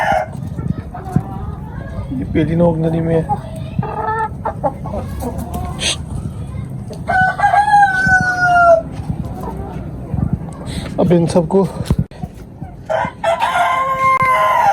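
An Ayam Cemani rooster crows among rooftop poultry pens in Faisalabad, its drawn-out call rising and falling in the middle of the clip, with clucking from other fowl and someone talking over much of it.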